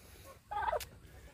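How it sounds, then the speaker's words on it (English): Chickens in a backyard chicken pen give a brief, close cluck and squawk, a single short burst over quiet outdoor background. "here's the chicken pen. This is our chicken pen."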